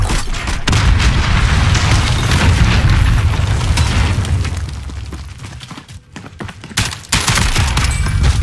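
Gunfire in Call of Duty Warzone shoots through a wall: a loud, dense barrage of rapid shots and booming bursts runs almost the whole time, easing briefly near the end before a final sharp flurry. No one speaks over it.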